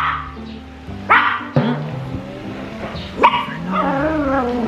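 A dog barks a few sharp times nearby at irregular intervals, then lets out a drawn-out whining whimper.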